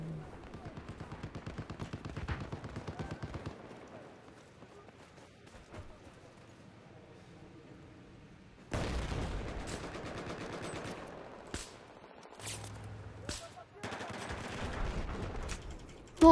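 Automatic weapon fire in the Battlefield 4 shooter game, with bursts of shots in an ongoing firefight, busier and louder in the second half, accompanied by other game sounds.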